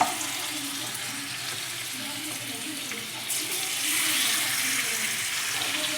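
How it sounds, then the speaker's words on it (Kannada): Marinated chicken hitting hot oil in a kadai gives a steady broadband sizzle that swells louder midway, with no voices over it. "ಈಗ ಎಣ್ಣೆ ಕಾದ ನಂತರ ಈ ಚಿಕನ್ ಏನು ನಾವು ಕಲಸಿಟ್ಕೊಂಡಿರ್ತೀವಲ್ಲ ಇವನ್ನು ಹಾಕ್ಕೋಬೇಕು"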